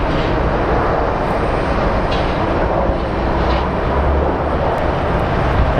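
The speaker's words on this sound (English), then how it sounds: "what a butter approach and landing" An airplane on approach and landing at Phoenix Sky Harbor International Airport, a loud steady engine roar filling the whole stretch with little change in level.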